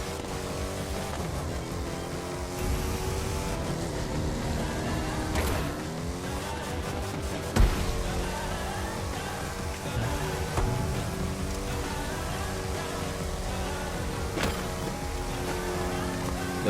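Car engine in The Crew 2 open beta, a steady driving drone with shifting revs and gear changes running throughout, blended with in-game music and effects at constant loudness.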